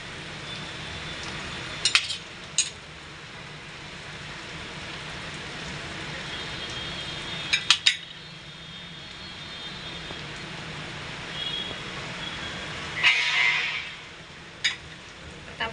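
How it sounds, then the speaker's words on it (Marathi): Eggs are cracked into a pan over cooking tomato and onion for a spicy egg half fry. A few sharp cracks and taps come at spaced intervals over a quiet, steady hiss from the pan. "अंड टाकून घ्यायचं आहे अंड असं फोडून घ्यायचं आपल्याला"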